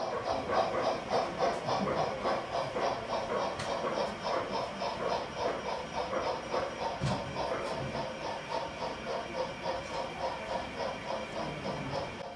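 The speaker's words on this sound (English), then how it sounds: "It's not just what these trains look like, of course, it's what they sound like." Model trains run on a 24-foot exhibition layout with mixed British and American stock, giving a steady rhythmic clatter of wheels over rail joints with a faint hiss, fairly quiet and continuous.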